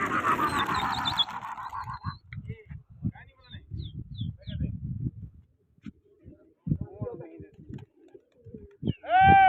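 Pigeons coo repeatedly outdoors in soft, throaty bursts, mixed with a bird's squeal and bursts of nearby shouting and chatter at the start and end.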